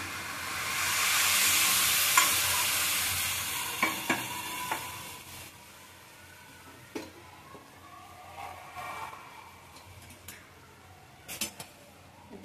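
Grated carrot halwa cooking with milk in a pan, a gentle sizzle that swells early, then fades, with intermittent clinks of a spoon against the pan.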